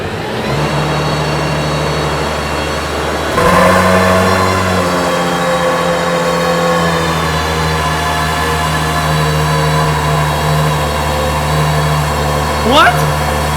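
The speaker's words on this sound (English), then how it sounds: "Adnan, can you give it a little gas?" An Aston Martin engine idles with a steady low drone up close, then gets a sharp blip of throttle that swells and settles back to idle, with a brief rising whine near the end.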